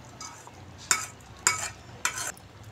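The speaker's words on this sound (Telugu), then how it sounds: "డ్రై ఫ్రూట్స్ కూడా వేసేసుకొని మొత్తం కలిపేసుకుందాము." A spoon stirs a thick sweet mixture with fried dry fruits in a pan, giving three distinct scraping strokes at an even pace over a soft, faint background sizzle.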